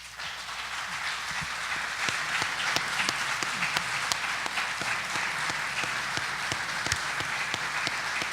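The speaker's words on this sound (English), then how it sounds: "I think they deserve a round of applause" A room full of people applauds candidates at a North Carolina Secretary of State forum, dense sustained clapping with a few sharper individual claps standing out, even and continuous throughout, with no speech over it.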